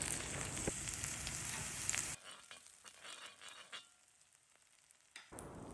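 Egg scrambling in hot oil left in the pan after green onion whites, a loud steady sizzle for about two seconds that drops to faint crackling and light stirring.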